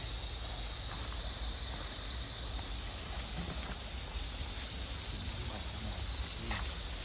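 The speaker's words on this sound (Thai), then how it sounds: "ฟังเสียงป่าดูสิ" Steady forest ambience beside a small roadside waterfall, with a constant high insect drone and a broad rushing wash of water, plus faint scattered rustles and ticks; no talking.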